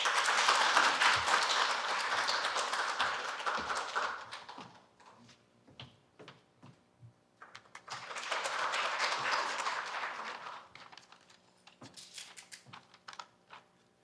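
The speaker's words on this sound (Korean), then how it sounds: "박수로" An audience at a Korea University forum applauds during the opening remarks. There are two separate bursts of clapping, each a few seconds long, with a quiet gap of scattered taps between them. The clapping is moderately loud.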